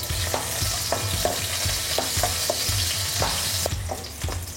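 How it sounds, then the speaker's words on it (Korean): Garlic and cilantro sizzle in hot oil in a pan for mala xiang guo, a steady close frying hiss with regular stirring scrapes repeating about once a second. "그 다음에 기름을 한번 살짝 둘러주는 거예요. 마늘, 요 고수를 넣어서"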